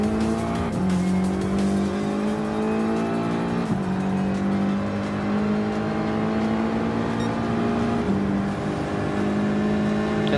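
A Ford GT LM race car roars continuously in Gran Turismo Sport, its engine climbing and dropping through several gear shifts at high speed.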